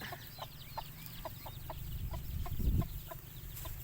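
Chickens on a rice farm give soft repeated clucks at an even, steady pace, fairly faint, over a low background rumble with a brief louder thump near the end.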